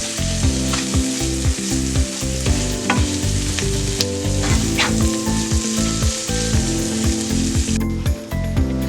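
Chicken masala with turmeric powder sautéing in a pan for pepper chicken, giving a steady close sizzle with frequent stirring scrapes and spoon taps throughout, no talking.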